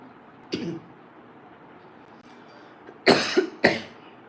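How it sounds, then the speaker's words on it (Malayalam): A single cough, then a short pause, then two more harsh coughs close by, with faint room noise in between. "പെട്ടെന്നൊരു ചുമ പിടിച്ചു കേട്ടോ"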